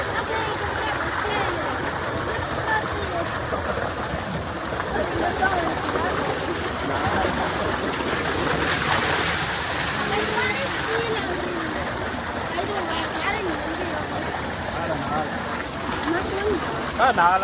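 Water gushing and splashing steadily from a solar-powered tubewell on a Punjab farm, a loud continuous rush filling the whole stretch, with people talking over it.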